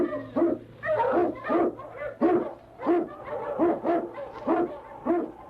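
An Eskimo lead dog, the swiftest and strongest of his kind, barks and howls in a steady rhythmic series of about a dozen loud calls, close by, over a low steady hum.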